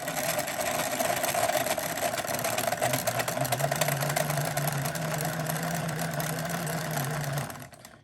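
A yarn winder winds hand-knit yarn that is threaded through wax. It gives a steady, close mechanical whirring hum with a faint rattle, then cuts off just before the end.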